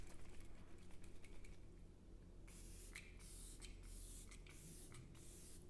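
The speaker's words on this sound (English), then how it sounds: "I'm going to go in with the Glow Recipe Watermelon Ultra Fine Mist" Glow Recipe Watermelon Ultra Fine Mist face mist sprays in several quick, faint, close-up spritzes after a quiet start.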